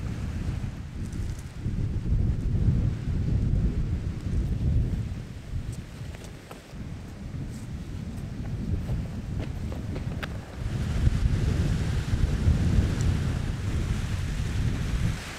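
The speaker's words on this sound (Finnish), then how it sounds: "Vaikka miten alhaalla on, niin tuulee kyllä." Strong gusty wind on an autumn fell hike in Urho Kekkonen National Park in Finnish Lapland, roaring and buffeting against the microphone in surging waves for the full stretch, with no talking.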